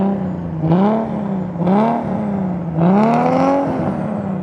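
Nissan Skyline GT-R R32 with an automatic gearbox, engine revving in three rising bursts that swell and fall back to a steady drone between them, loud and close with no voices.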